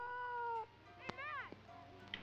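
House cat meowing indoors, a couple of soft nearby meows, one drawn-out and one rising and falling, separated by faint clicks, with no voices over them.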